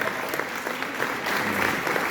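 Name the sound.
congregation applauding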